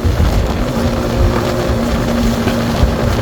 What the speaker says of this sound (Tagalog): ibubuga na natin yung lakas ni Mojo 200 dahil gusto ko talaga mabit niya yung 130 na takbo